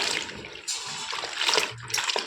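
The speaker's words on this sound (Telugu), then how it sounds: "మిరపకాయలకి అయితే నీళ్ళు వేస్తున్నా కదా" Water is poured over green chillies in a bowl to wash them, a close splashing trickle with sloshing bursts throughout and no talk.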